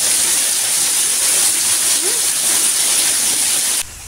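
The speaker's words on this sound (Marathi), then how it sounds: "चला पाऊस पडतोय" Steady rain pours down outside a farmhouse on a wet day, a dense, even hiss that holds loud and unbroken before dropping slightly in level near the end.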